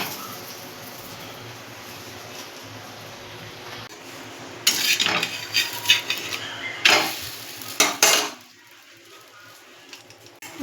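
Paratha being cooked on a tawa griddle, a low background hum followed by a burst of clanking and sizzling as the pan is handled, with scraping and stirring sounds that settle back to quiet near the end.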